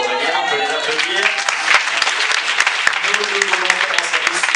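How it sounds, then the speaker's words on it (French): An audience applauds steadily at a film festival's closing ceremony and awards presentation, a dense, sustained round of many hands clapping that fills the hall from start to finish. "Aurélien, on peut les applaudir"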